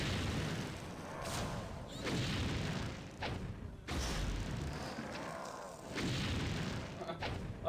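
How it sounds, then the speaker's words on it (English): Explosions in the stealth video game Thief: heavy, booming blasts that repeat and rumble loudly in the low end, with a sharp break in the middle. "this is like explosions"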